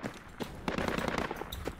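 Rapid bursts of automatic gunfire crackle through a tactical military shooter game, several quick volleys following one another at moderate distance and fairly low volume.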